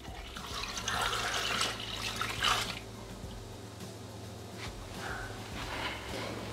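Milk poured into a Thermomix TM6 mixing bowl while making a mocha cake, a steady liquid pour with a brighter splashing burst near the start, then softer trickles over a faint background hum.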